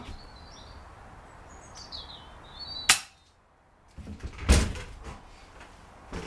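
An FX Impact air rifle fires at a playing card 45 yards away, giving one sharp crack midway and a second louder snap a moment later, with faint birdsong in the quiet outdoor background.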